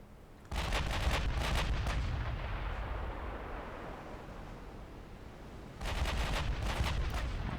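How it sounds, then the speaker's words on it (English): Naval artillery and gunfire pound a battleship in a war video game: loud rumbling cannon blasts and rattling shots open abruptly, fade into a long roaring decay, then a second heavy salvo hits near the end. "All fire going into that battleship."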